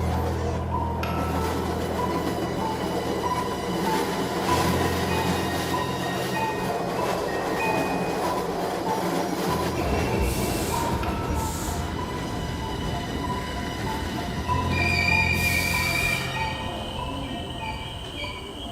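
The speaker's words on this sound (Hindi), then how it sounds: "खाली ट्रेन में सफर कर रहा था" A moving train rumbles steadily and loudly throughout, with rolling wheel noise, rattling carriages and occasional high squeals, with no voices.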